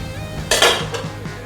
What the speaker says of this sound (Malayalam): ഇത് നമുക്ക് രണ്ട് മൂന്ന് മിനിറ്റ് ഒന്ന് ആവി വരാൻ അടച്ചു വെക്കാം